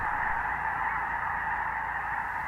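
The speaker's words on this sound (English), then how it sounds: "there are snow geese at a pond a little bit farther east" A dense, continuous chorus of many snow geese honking at once, loud and unbroken, like a large flock calling in flight.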